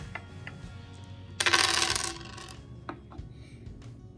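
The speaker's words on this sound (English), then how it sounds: "Roll your dice." Dice tumbling and clattering across a board in a board game, one brisk rattling roll lasting under a second, close and fairly quiet, followed by a few small clicks.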